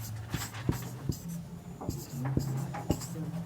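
A pen moves across paper in soft scratchy strokes and sharp taps, rhythmic and close, while a low hum and faint murmuring sit underneath.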